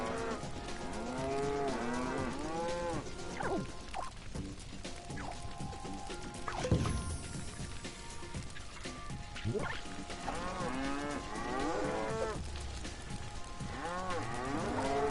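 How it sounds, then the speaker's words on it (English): Cow mooing in the video game LittleBigPlanet 3, a series of drawn-out, wavering moos repeating across the clip, fairly loud and close, with a crash-like thump midway and game background sound beneath. "It's a tired cow."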